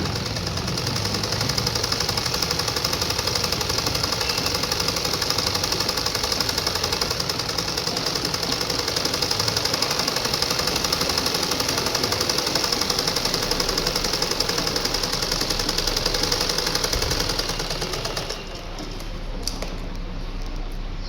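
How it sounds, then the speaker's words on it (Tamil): A sewing machine stitches a folded half-inch hem on a gown in one steady, unbroken mechanical whir lasting nearly twenty seconds, then stops near the end. "ஒரு 1/2 இன்ச்சு நம்ம ஒரு லைன் மட்டும் சுருக்கம் வராமல் இருக்கிறதுக்காண்டி மடக்கி அடிக்கிறோம்"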